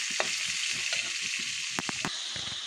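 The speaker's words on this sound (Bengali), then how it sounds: "এখন পেঁয়াজ মরিচ টমেটো একসাথে দিয়ে দিলাম।" Onion, chili and tomato sizzle loudly in a hot pan where fish was fried beforehand, a dense continuous hiss broken by a few sharp stirring scrapes.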